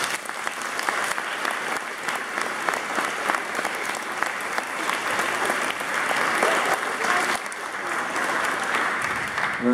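Church congregation applauding steadily and loudly for nearly ten seconds, a dense continuous wash of many hands clapping in a reverberant nave without a break.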